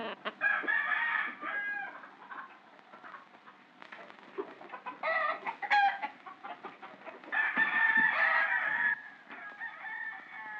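A fighting cock crows and clucks in a rural setting, with repeated crowing calls and broken clucking spread across several seconds, moderately close and fairly faint, with scuffling and handling noises between calls.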